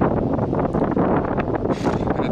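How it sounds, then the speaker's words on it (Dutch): Strong wind buffets the microphone outdoors during a handbike ride, a continuous loud rumbling roar with gusty rustling that covers everything else. "En het waait wel ontzettend."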